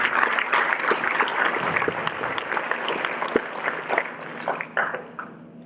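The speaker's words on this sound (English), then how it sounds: "We should all really applaud him for the effort he has put to make this institute what it is today." Sustained audience applause for Professor Jain at an institute's foundation programme, a broad wash of many hands that gradually thins and fades toward the end.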